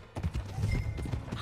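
Horse hooves clip-clop in Red Dead Redemption 2: a close, steady run of hollow hoofbeats that continues throughout the clip, with faint harness noise and no voices.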